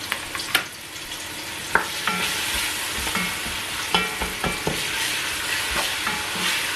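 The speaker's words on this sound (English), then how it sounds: "Add your onion, fry it a bit." Onions fry in hot oil for tomato jollof rice, a continuous bright sizzle punctuated by sharp spoon scrapes and taps as they are stirred, close and without talk.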